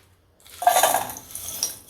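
Broken jaggery, about a cup, tipped into a pan on the stove while making sweet potato payasam, giving a short scatter of hard clinks and rattles against the metal that fades into a soft rustle.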